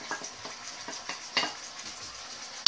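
Onions and spices fry in a pan with a soft background sizzle, broken by a series of light scraping stirs and a sharp utensil clink at the very end; no one speaks.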